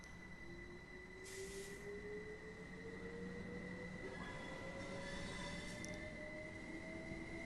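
Train wheels squeal in a long, thin, rising whine in Train Sim World 2, over the steady rumble of a rolling train on the New Haven to Brighton East Coastway line, heard faintly from inside the cab.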